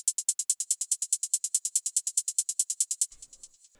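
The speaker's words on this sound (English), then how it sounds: "For the hi-hats, I made this really simple hi-hat pattern, which just plays on every single beat." A rapid, steady hi-hat pattern ticks crisp and bright for about three seconds, then dissolves into a washy reverse-reverb tail, with no voice.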